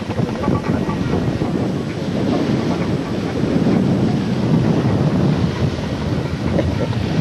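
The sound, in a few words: wind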